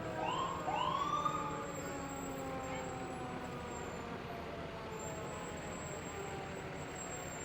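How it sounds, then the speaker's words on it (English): Emergency vehicle sirens from a hospital ambulance and fire department trucks in a small-town hot air balloon festival parade, a rising wail early on fading into a steady wash of street and crowd noise. "We've got the Lakeview Hospital ambulance. We've got some of the fire trucks."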